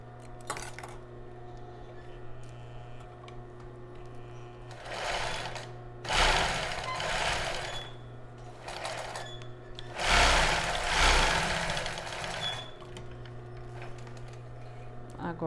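Sewing machine stitching fabric for a child's bra, running in two loud bursts with quieter mechanical whirring and handling between them, over a steady background hum.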